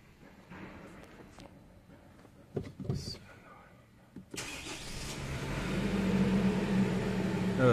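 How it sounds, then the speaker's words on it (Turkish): A Nissan Navara pickup engine cranks with a short whirring burst, catches and settles into a steady idle that grows louder toward the end, after a few quiet clicks and knocks; people talk over it. "Şimdi arabayı çalıştırıp bakacağız."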